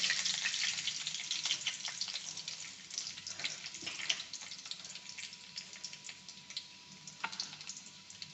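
Cumin seeds and curry leaves sizzling in hot oil for a village-style toor dal, a bright crackling hiss with rapid pops and ticks, close and fairly quiet, steady throughout without voices.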